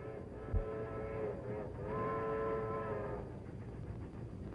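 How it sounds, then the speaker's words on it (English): A train approaching in an old film, its horn or whistle sounding a sustained, fairly faint harmonic tone for a couple of seconds over low rumbling background noise, with no talking. "That sounds like the train from Chicago."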